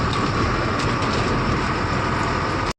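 A freight train rolls past close by at a loading yard, a steady loud rumble with rattling wagons that continues unbroken and then cuts off abruptly at the end.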